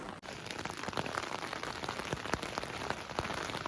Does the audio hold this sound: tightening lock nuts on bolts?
no